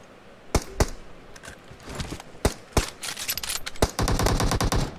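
Gunfire in a shooting video game, with sharp single shots scattered early, then denser bursts and a sustained rapid automatic volley near the end, loud and close.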